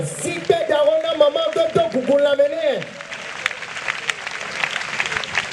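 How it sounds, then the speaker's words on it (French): Cheering and clapping from a congregation at a church program, loud voices rising over the applause for a few seconds before settling into scattered clapping and crowd noise. "Je voudrais qu'on encourage maman avec des acclamations cet après-midi."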